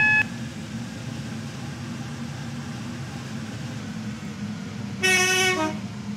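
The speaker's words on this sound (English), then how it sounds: "The train now approaching platform 7 does not stop here." Steady low rumble of a non-stopping train passing through platform 7 of a station in the video game Stepford County Railway (SCR), with a brief loud horn blast near the end.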